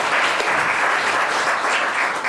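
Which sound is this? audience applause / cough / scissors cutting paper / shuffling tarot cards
audience applause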